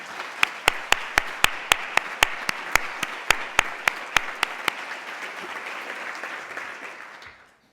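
A seminar audience at the Radcliffe Institute breaks into steady applause, its broad wash sustained for several seconds, while a row of sharp, evenly spaced claps stands out close by before the sound fades to silence.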